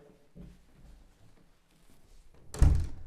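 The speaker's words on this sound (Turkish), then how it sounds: "Kapıyı bir kapatalım." A door in a spacious villa bedroom is pushed shut, ending in a single solid thud after some soft shuffling and handling noises.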